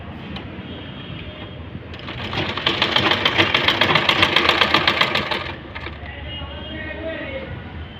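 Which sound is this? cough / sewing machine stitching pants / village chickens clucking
sewing machine stitching pants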